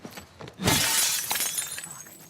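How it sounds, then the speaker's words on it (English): In The Last of Us Part II, glass shatters with a sudden loud crash and a bright spray of tinkling shards that fades over the next second or two, with faint game sounds before and no talking. "I'm going to dodge and break the glass."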